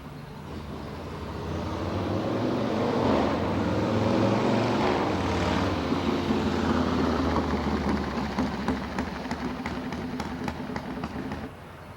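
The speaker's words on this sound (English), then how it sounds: "that was a motorcycle that just went by" A motorcycle passing near a fire-damaged restaurant building, a low engine drone that swells over several seconds, peaks mid-pass and slowly fades, with faint wind buffeting toward the end.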